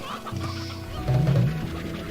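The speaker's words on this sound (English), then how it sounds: "Chickens go in there." Chickens clucking in the video game Slime Rancher, a short burst of close, throaty game-sound clucks that swells mid-clip over a steady background hum.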